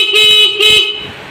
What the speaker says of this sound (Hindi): हॉर्न भी ओके हो चुका है।